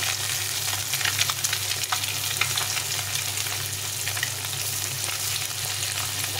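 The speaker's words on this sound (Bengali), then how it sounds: "খুব বেশি ভাজবো না, অল্প অল্প করে ভেজে নেব।" Halved boiled duck eggs fry in hot mustard oil, giving a steady, close crackling sizzle with scattered sharp spits and pops throughout, no voices over it.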